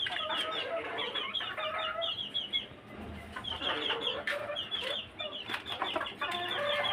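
Chickens on a farm where partridges are also kept cluck and chatter repeatedly in short, uneven bursts, fairly close and layered over one another, with no talking.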